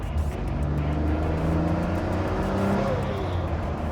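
Noble M400 sports car lurching along at low speed in a low gear, its engine a steady, loud, close drone with rising and falling tones and no talk over it.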